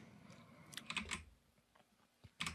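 Someone types on a computer keyboard in a quiet room, a few quick bursts of close, crisp key clicks separated by short pauses.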